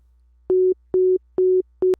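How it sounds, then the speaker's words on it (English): Pure sine wave tone from a synthesizer, free of harmonics, played as four short, evenly spaced low beeps of equal loudness, each cleanly starting and stopping against near silence. "So this is a sine wave."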